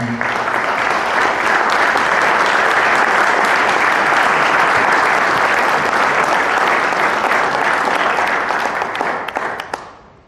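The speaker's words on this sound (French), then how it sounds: "Donc je souhaite qu'on applaudisse Adrien." Loud, sustained applause from a large audience fills the room, dense clapping holding steady for about ten seconds before fading out at the end.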